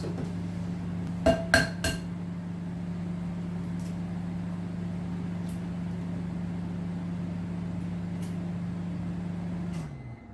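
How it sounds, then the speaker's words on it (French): Two eggs are beaten with applesauce in a bowl for a healthy sugar-free protein brownie: a few glassy clinks at the start, then a steady droning hum that runs evenly for several seconds before cutting off. "On va commencer par battre les 2 œufs avec la compote."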